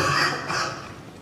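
A single short, rough cough from an adult in a room, fairly close and moderately loud, with no speech around it.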